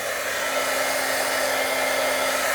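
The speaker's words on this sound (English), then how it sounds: "a heat tool from far, far away" A heat tool blows on an alcohol ink card to dry it, giving a loud, unbroken whir with a faint steady hum running through it from start to end.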